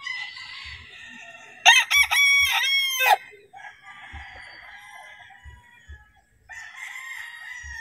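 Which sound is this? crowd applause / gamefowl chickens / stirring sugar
gamefowl chickens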